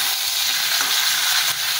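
Potatoes with taro and eggplant, seasoned with salt, sizzle loudly in a hot frying pan. They hiss steadily and close up while being stirred, with no voices.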